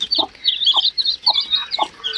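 A hen clucks in low, short bursts at a steady rhythm while her chicks peep constantly in high, thin chirps close by, heard without talk.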